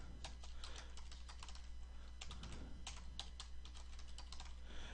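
Steady computer keyboard typing while an account email and password are entered, with rapid clustered keystrokes and short pauses over a constant low hum, close and fairly quiet, no speech.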